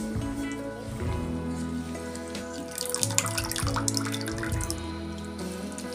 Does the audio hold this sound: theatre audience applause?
no